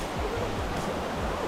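A rainforest river flows in a steady broadband rush of water, close and continuous, with no voices.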